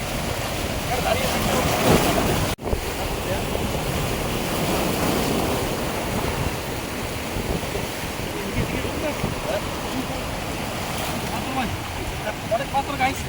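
Big sea waves roll in against a shore of large rocks, a loud, continuous roar of surf mixed with heavy wind buffeting the microphone, with one brief dropout early on.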